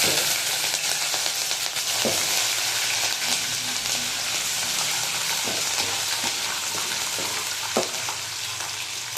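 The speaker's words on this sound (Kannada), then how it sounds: "ಮೆಣಸಿನ್ಕಾಯಿ ಸ್ವಲ್ಪ ಹಂಗೆ ಫ್ರೈ ಆಗಲಿ" Green chillies and curry leaves frying in hot oil give a loud, continuous crackling sizzle, with occasional soft stirring knocks close by.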